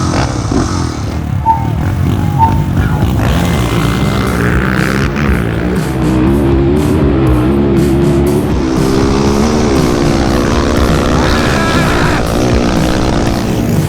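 A modded Honda 400EX and a Kawasaki KFX450R ATV roar through a drag race, their engines loud and continuous as they rev and pull hard, with no voices.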